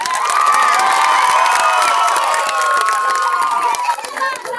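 A crowd cheers and shouts at an evening show, a dense, loud wall of voices and whoops held steady throughout with only a slight dip near the end.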